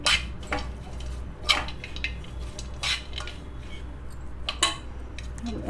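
A spoon clinks and scrapes against a bowl while bread pieces are tossed with roasted peanuts, giving irregular close clatters and soft squishy stirring with no speech.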